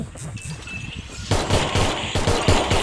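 Gunfire in the video game Free Fire: a quiet stretch of game ambience, then dense rapid automatic bursts that go on for well over a second, loud and close.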